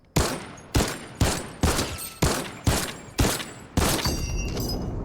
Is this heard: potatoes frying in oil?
no